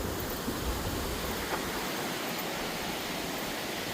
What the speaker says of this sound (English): Nice little creek down there.